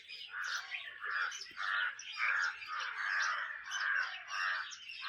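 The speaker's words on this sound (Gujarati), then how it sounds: "આપણે હરાદ ઉપર કાગડા આવતા નથી ને અહીંયા એટલા બધા કાગડા છે।" Crows calling in the forest on the Girnar hills, giving a steady series of harsh, rhythmic caws roughly every half second, fairly close and clear with no other sound.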